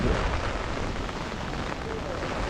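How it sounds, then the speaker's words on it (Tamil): Strong wind and rain lash a beach where people are fishing, a steady loud roaring wash with gusty buffeting that never lets up across the moment. "ஐயோ காத்தடிக்குது காத்தடிக்குது மழை மறையுது பாருங்க"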